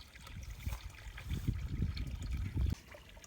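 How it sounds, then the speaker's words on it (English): Water runs from a hose into four tubs in a hay storage area, a steady broadband trickle and splash of moderate level with small surges, continuing for the whole stretch with no talking. "So I'll fill all four of these tubs up just to make sure he's got plenty of water."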